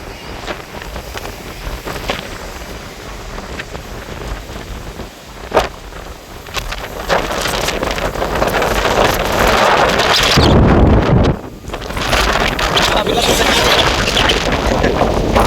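Strong wind blasting across a beach and whipping sand, a steady loud roar of gusts buffeting the microphone, swelling into a heavier rush near the end.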